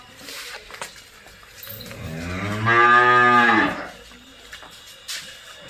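A Jersey cow on a dairy farm gives one loud, drawn-out moo close by, rising and then fading over a few seconds against faint farmyard background.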